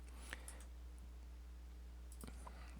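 Clicks from a computer mouse in a settings menu of CRM software: a few light, sharp taps spaced apart over a steady low background hum, with no talk.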